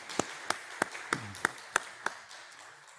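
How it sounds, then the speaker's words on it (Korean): During a church worship service, a small group claps in a slow, sparse rhythm, about eight distinct, evenly spaced claps that ring in a quiet room, then fade out, with no voices heard. "우리 박수 한번 부탁합니다"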